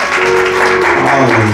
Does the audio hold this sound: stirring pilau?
no